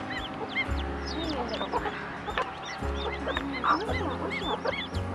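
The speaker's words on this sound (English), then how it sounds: "Okay, I hear chicks." Newly hatched gosling chicks on a farm peep continuously in a busy chorus of high, overlapping chirps, close and moderately loud, with a low rumble underneath.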